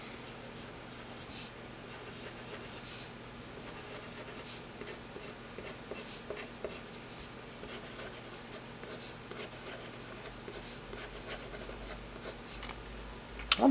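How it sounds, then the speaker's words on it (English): A Pilot Varsity pen scratches and glides across paper in continuous cursive strokes, soft and close with small rhythmic scrapes, ending in a brief louder tap. "When we're writing more cursive and we're just keeping the pen on the paper,"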